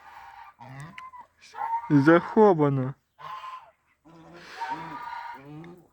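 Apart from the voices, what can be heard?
geese and ducks honking in snow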